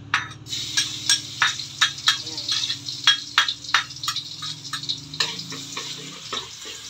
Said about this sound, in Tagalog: Igigisa na natin itong bawang. Gagawin na naman natin itong golden brown para sa ating fried rice mamaya.